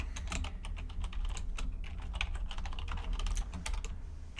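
Steady computer keyboard typing while writing up a Python coding solution, a dense run of close, crisp keystrokes with no talking.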